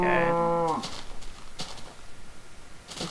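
Minecraft cow giving a single loud, drawn-out moo at the start that falls in pitch, followed by soft scattered thuds and game noise with no talk.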